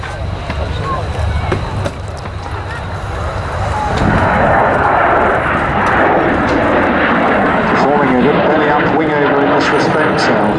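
A Hawker Hunter jet makes a low, dirty pass at an RAF Waddington airshow, its engine roar swelling from a rumble into a loud, broad, sustained blast as it comes closer.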